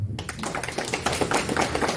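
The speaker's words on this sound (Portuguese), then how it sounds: "Palmas para a nossa cantora." Audience applause for a singer at a spiritist conference gathering, steady dense clapping from a crowd filling the whole stretch, fairly loud and close.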